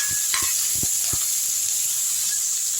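Onions sautéing in hot oil in a pan give a steady soft hiss and sizzle throughout, with a few brief clinks and stirring knocks near the start.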